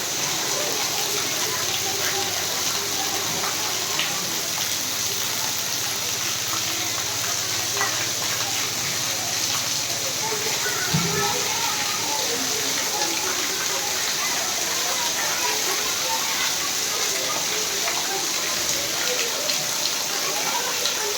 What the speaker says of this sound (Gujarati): શાંત વરસાદ વરસી રહ્યો છે અને ધોધમાર વરસાદ વરસે છે